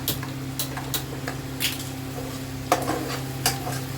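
Onions softening in a pot for a Mughlai chicken malai handi, stirred with a utensil: sparse scraping clinks and taps recur over a steady low hum, with no talking.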